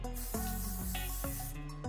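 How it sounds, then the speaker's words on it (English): Hairspray hisses onto a hair brush in short close bursts, several quick sprays in an uneven rhythm with a steady hiss between them. "You can always spray your brush with some hairspray"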